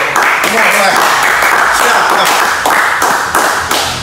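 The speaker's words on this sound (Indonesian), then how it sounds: "Luar biasa, tepuk tangan." Studio audience applauding at an Indonesian talk show filmed in a law office, a steady wash of clapping throughout with voices mixed in.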